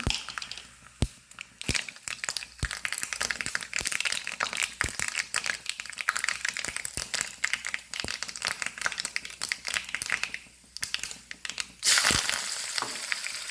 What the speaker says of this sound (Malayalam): കടുക് വറക്കാൻ വെളിച്ചെണ്ണ അടുപ്പത്ത് വെച്ചു. കടുകിട്ട്